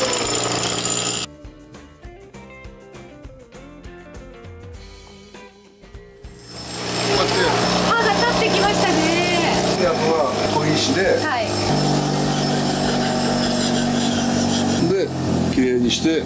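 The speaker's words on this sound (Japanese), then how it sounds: "だから今度はこういったやつで刃をちゃんと研ぐんです。" A motorized sharpening machine grinding a blade in a secondhand shop starts partway through as a loud, continuous whining grind, with people talking both before it and over it.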